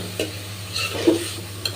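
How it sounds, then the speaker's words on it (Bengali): Shrimp with ginger and garlic fry in a pan, giving a faint sizzle with a few soft scraping stirs and light clinks over a short, quiet stretch. "চিংড়ি আদা রসুন আর একটু ভাজা ভাজা করে নাও"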